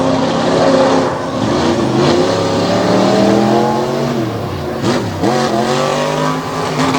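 Racing trucks at Lake Erie Speedway in a three-wide monster event, engines roaring loud and close, pitch sweeping up and down through gear changes as they power around the corner, with no speech over the sustained engine noise.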